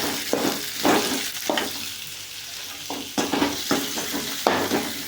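Chutney ingredients sauté in a pan under a low continuous sizzle, punctuated by about six rhythmic scraping strokes of a spoon stirring, close and moderately loud.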